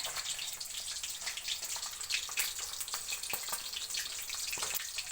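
Fresh, newly caught fish frying in a pan, giving a steady close sizzle with crackling pops and spatters throughout, and no voices.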